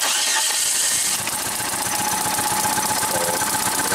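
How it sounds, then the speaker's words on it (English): A car engine cranks over during a compression test, then settles into a steady idle with a rhythmic low pulsing, loud and close, with no talking. "So crank the engine, let it idle for a bit"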